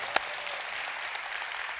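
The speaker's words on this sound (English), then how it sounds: "Now, can we clap for King Jesus?" A church congregation claps together in steady, dense applause at a moderate distance, with a single sharp clap standing out near the start.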